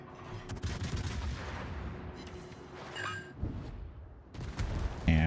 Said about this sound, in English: Yay, he's shooting me.